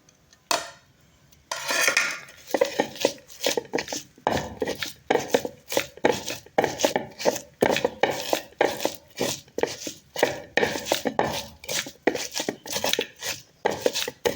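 Coriander leaves being chopped at night for a mashed bhorta: a rapid, loud run of knife strikes on a cutting board, close up, after a brief quiet start, with no talk.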